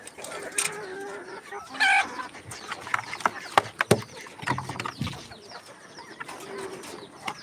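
Three fancy backyard chickens cluck and chirp near by as small handfuls of feed are scattered for them, with a few louder squawks and bursts of rustling over a steady outdoor background.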